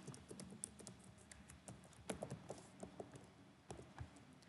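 Typing on a computer keyboard to enter a search, with irregular bursts of close key clicks and a few heavier taps at a moderate level, no voices.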